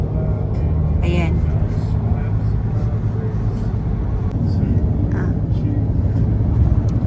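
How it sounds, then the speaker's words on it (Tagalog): A Qantas airliner passes overhead near the Sunshine Coast in Australia, a steady low broadband rumble that holds through the whole stretch, with a person talking over it at times. "airplane sa taas"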